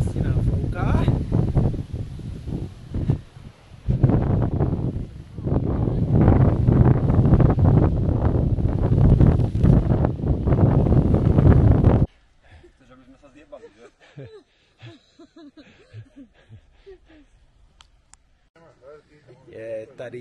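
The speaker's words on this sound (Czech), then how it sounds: "Krásně nám fouká" Strong wind on Tenerife buffets the microphone in a loud, rushing roar at a viewpoint for most of the clip, then drops away to quiet outdoor ambience.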